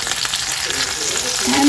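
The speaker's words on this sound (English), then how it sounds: "We'll sear the lamb chops on both the sides." Lamb chops sear in a hot pan with a loud, dense, steady sizzle that swells slightly toward the end of the short stretch.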